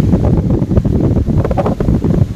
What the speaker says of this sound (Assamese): কি বতাহ দিছে